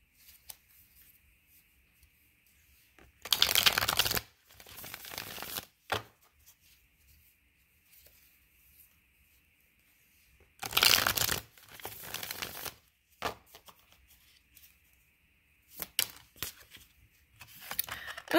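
Tarot cards shuffled for a reading in several separate bursts of riffling and flicking, close and crisp, with quiet pauses between them.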